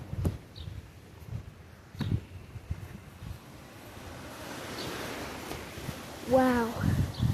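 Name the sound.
strong wind blowing outdoors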